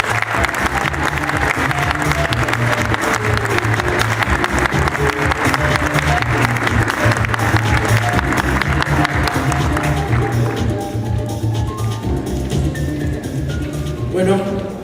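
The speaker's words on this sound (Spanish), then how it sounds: "Recibamos con un fuerte aplauso a nuestro distinguido invitado, el periodista José Laluz." A convention audience gives the guest speaker, a journalist, a strong round of applause, dense and sustained for over ten seconds with music underneath, then fading as the hall quiets.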